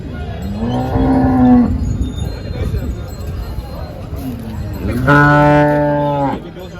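Two loud, drawn-out moos from HF and Jersey dairy cows close by at a cattle market, with crowd chatter and background noise between the calls.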